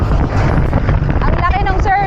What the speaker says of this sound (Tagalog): At ang lakas pa rin ng hangin.